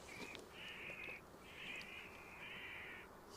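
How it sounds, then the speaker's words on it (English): An artificial bird scarer at Edinburgh Airport sounds a series of steady, high electronic tones. The long, flat blasts come in three or four bursts separated by short gaps, fairly faint and distant over background hiss. "if that's an artificial bird scarer, that's a new tone"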